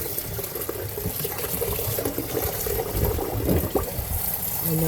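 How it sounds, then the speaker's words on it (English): Tap water runs steadily into a sink as it is rinsed, a constant near splashing rush that lasts the whole stretch with no talking. "Turn the water on. Now we're going to rinse."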